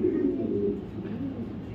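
A male Afghan grizzle racing pigeon from 2023 coos in low, steady throaty murmurs, close and moderately loud, with no voices over it.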